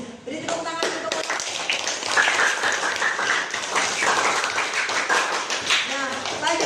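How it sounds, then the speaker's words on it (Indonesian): A school class claps hands together in a classroom, a burst of many hands clapping fairly loudly for several seconds, with voices mixed in underneath. "Beri tepuk tangan untuk."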